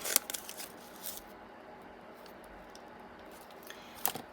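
Scissors snip the ends of a tied bow while making a paper card: a couple of quick, faint cuts at the start and another short snip near the end, with quiet gaps between them.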